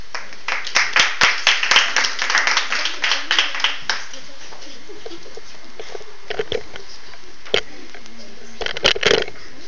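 An audience claps to encourage children, a dense burst of applause for about four seconds that thins to scattered claps, with a few late claps and talk underneath.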